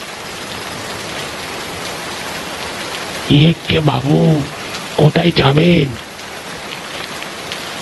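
Heavy rain pours steadily throughout, with a voice speaking briefly over it in the middle.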